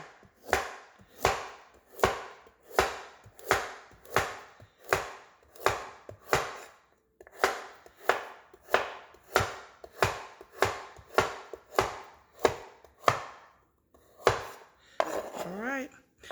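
Carrots diced diagonally for beef curry stew, a knife striking a cutting board in a steady rhythm of crisp, close chops with one brief pause partway, then a few scattered knocks and a short rustle at the end.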